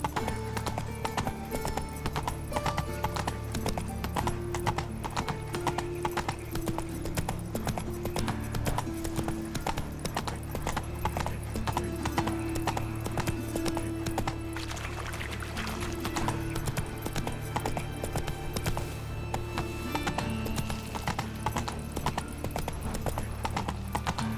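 Horse galloping in The Witcher 3: Wild Hunt, a fast, steady drum of hooves close by for the whole stretch, with faint background music underneath.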